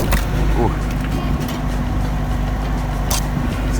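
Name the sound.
car driving, heard from inside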